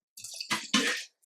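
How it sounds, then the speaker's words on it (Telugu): About 400 ml of water is poured into a cooking pot in a short splashing gush that comes in two close bursts, loud and near, lasting about a second with no talking. "ఇదిగోండి 400 ml ఆఫ్ వాటర్ పోస్తున్నా"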